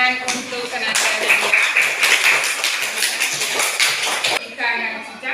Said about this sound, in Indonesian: tepuk tangan untuk tenaga